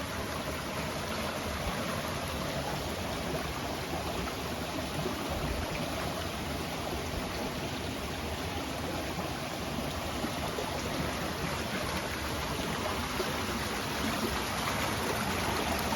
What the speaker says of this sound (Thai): น้ำไหลผ่านกันในตรงนี้